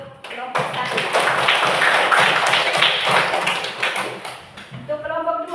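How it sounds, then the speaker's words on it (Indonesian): Classroom applause for group 1, a burst of many hands clapping that swells and then fades over several seconds, with voices at the end. "Tepuk tangan untuk kelompok 1"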